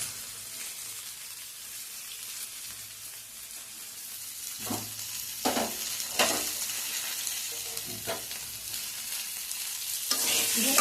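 Grated ginger is stirred into ridge gourd, potato and drumstick frying in a pan, with a constant gentle sizzle and several distinct scraping strokes of the spoon near the middle and end.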